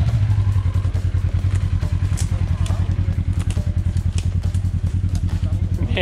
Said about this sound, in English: You're slipping belt.